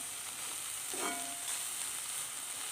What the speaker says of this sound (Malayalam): ഇത് കരിഞ്ഞു പോകാതെ ഇങ്ങനെ മിക്സ് ചെയ്തെടുക്കുക